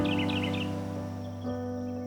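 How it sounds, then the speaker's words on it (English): Bright, chirping morning bird calls flutter briefly at the start over a steady low hum, then fade, leaving only the background drone. "I can hear the birds in the morning when I wake up"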